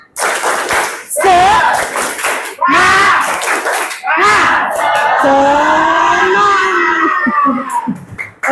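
A classroom of children joins in the Indonesian tepuk semangat clapping chant, loud voices calling out together in rhythmic bursts with scattered claps mixed in.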